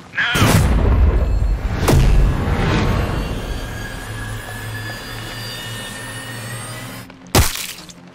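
Sniper rifle shots in Sniper Ghost Warrior 3 crack out loudly, with a booming report and a rolling echo that fades under a low engine-like hum, then a final sharp shot near the end.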